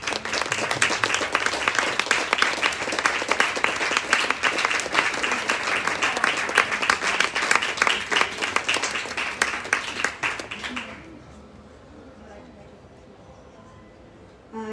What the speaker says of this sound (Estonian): Nii et ma kutsun siia, palun, hooandja. Aplaus.